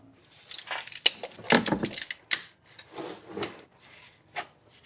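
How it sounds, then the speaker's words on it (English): Vice grips working a tight part loose on a 2008 Acura MDX engine during block removal: scattered metallic clicks, scrapes and ratcheting rubs in short uneven bursts, close up, without speech. "I'm just going to use these vice grips."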